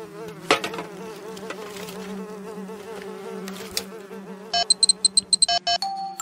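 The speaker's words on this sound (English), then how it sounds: "Fly, cockroach, mosquito." Insects buzz, a fly and a mosquito, with a wavering close drone followed by a run of short high electronic-sounding beeps near the end; no one speaks.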